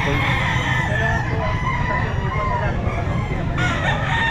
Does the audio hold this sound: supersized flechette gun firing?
no